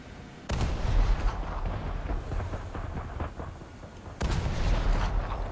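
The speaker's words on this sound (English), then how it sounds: "I don't know why the mortar feels so inclined to start shooting at them" Heavy mortar fire in a naval combat game: a dense, booming barrage of deep repeated blasts and rumbling impacts, loud and continuous across the clip, with a fresh burst of heavy fire near the end.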